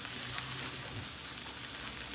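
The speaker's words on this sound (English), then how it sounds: "it's just frying" Food sizzles and crackles steadily in a hot pan, a continuous frying hiss at moderate volume with no talking.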